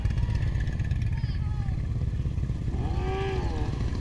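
Unmuffled motorcycle engine at a motorcycle rally, a loud, steady low rumble running throughout, with people speaking over it.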